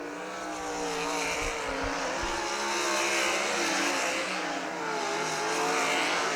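Race cars at Millstream Speedway roar together in a continuous loud pack, engines holding a steady high drone as they run around the oval, with no break in the sound.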